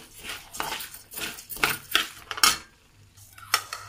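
Coriander seeds are pounded in a mortar, a close series of sharp, uneven knocks and grinding scrapes about twice a second, with a short pause before a final strike.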